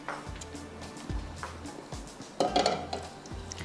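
A wooden spoon picked up among dishes while fenugreek seeds heat for a pepper chicken tarka, a few close clinks and knocks of kitchenware over a faint background, a brief busier clatter midway, no talk.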